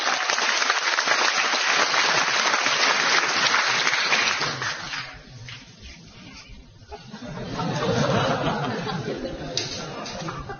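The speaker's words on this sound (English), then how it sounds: "Give them a round of applause." Studio audience at a taping of the British sitcom I'm Alan Partridge applauding loudly, a dense burst of clapping that fades midway, then laughter and chatter rise again before trailing off.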